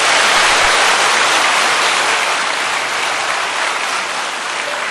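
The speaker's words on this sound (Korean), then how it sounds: "우리 하나님께 큰 박수 올려 돌리십시오" A church congregation bursts into big applause for God during a worship service, a loud, dense, unbroken wash of clapping that stays steady throughout with no talk over it.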